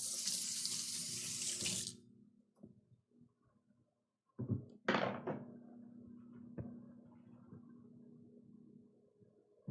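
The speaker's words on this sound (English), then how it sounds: "I'm gonna give my hands a quick rinse." A kitchen faucet runs steadily for a couple of seconds while hands are rinsed, then shuts off, followed by quiet clinks, a soft thump and faint rustling of kitchen movement.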